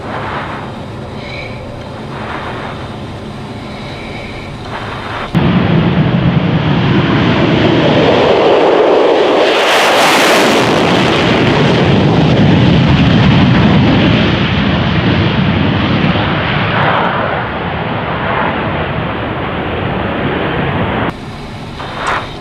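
An F-16 Viper jet engine runs up on the ground, starting as a steady whine and then jumping to a loud, sustained roar that holds for about fifteen seconds before dropping back, with no voices over it.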